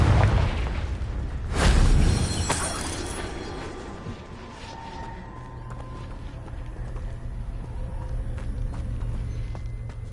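A Confringo blasting spell detonates with a loud, near boom about two seconds in, followed by a lingering rumble and scattered debris and clatter that slowly fade.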